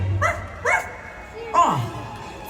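A dog barking for a Jack Skellington puppet show at Disney's Halloween party: a few short separate barks and a whimpering yelp, loud and close, with a voice speaking around them.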